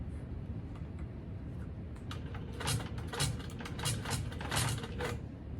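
A Handi Quilter longarm quilting machine stitches a straight edge across a tote bag with the channel lock on, giving a soft continuous mechanical hum with quick rattling bursts of needle strokes, alone and fairly close.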